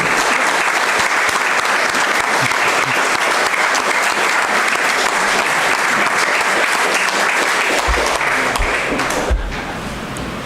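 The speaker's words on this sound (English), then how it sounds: "So if we could give them a round of applause" Sustained round of applause for the candidates at a county state senate Democratic candidate forum, a dense steady clapping from the audience that fades slightly near the end.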